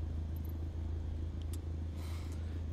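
A Cessna 152 piston engine in Microsoft Flight Simulator hums as a steady low rumble with a fast, even throb, holding constant and fairly loud for the whole stretch, alone without talk.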